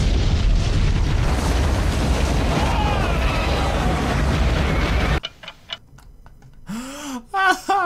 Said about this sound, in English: So the rocket that they shot at the mountain actually didn't cause the avalanche